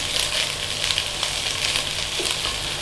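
Eggs sizzling steadily in a hot wok or pan for Chinese tomato scrambled eggs, a continuous, close, fairly loud frying hiss with no talking.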